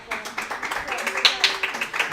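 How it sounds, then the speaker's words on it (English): Scattered clapping from a small audience at an indoor track team event, with sharp individual claps rising over a voice speaking underneath. "please give them a round of applause."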